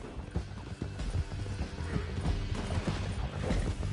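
Horse hooves gallop in Red Dead Redemption 2, a steady rhythmic clip-clop with a brief whinny, joined by rattling tack and rumble from the ride.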